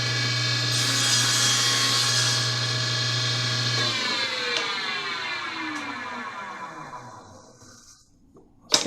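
A table saw with a raised 8 1/4 inch blade rips through a piece of plywood, a steady loud whine and grinding cut that then spins down with a falling pitch over several seconds before a small knock at the end.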